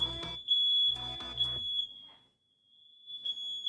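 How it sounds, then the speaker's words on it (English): A household smoke detector alarm sounds a steady, piercing high-pitched tone that runs continuously at close range, with loud thumping noises over the first moments and brief rustling near the end. "Smoke detector's going off."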